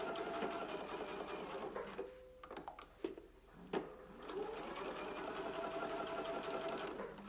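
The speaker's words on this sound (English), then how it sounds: "I am gonna go to the sewing machine and stitch down the elastics now." A sewing machine stitches down elastic on a bias cut satin skirt in steady rapid bursts, pausing briefly a few times in the middle before running continuously again, close and fairly loud.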